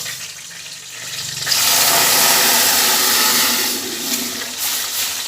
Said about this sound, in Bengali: এর মধ্যে জল দিয়ে ডালটা ধুয়ে নেব